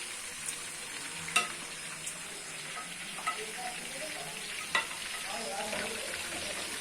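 Fish pieces fry in hot oil for a traditional Lahori fish fry, giving a soft, continuous sizzle close by with scattered small pops and a few sharper crackles spaced across the clip, no speech heard.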